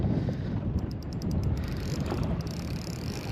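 Steady wind gusting across a fishing boat out on the water, a continuous broadband rush with no one speaking.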